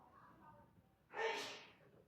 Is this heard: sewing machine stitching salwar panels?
no